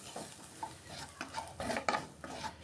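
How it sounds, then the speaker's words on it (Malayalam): Vegetables with a hot chilli powder being stirred in a little oil in a pan, with rhythmic spoon scrapes and clinks against the pan over a soft sizzle, close and alone. "നല്ലതുപോലെ ഒന്ന് എണ്ണയിലിട്ടൊന്ന് നല്ലതുപോലെ ഇളക്കി"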